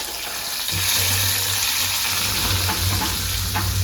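Shallots and curry leaves sizzle loudly and steadily in hot oil for a Kerala fish curry, a dense close crackle with no talking over it.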